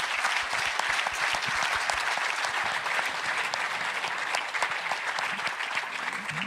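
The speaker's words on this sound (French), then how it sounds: "Je vous propose de les applaudir pour les remercier de leurs interventions." A large conference audience applauds steadily after a plenary session, dense clapping filling the whole stretch at a consistent loud level without pause.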